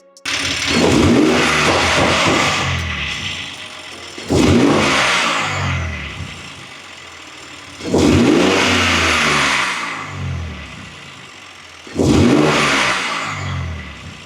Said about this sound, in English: see how it sounds and performs right after I just installed it